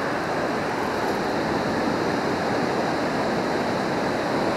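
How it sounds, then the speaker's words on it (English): Ocean surf washes onto a storm-hit beach in a loud, unbroken roar of breaking and receding water, close by, with some wind buffeting and no voices. "There's the water again."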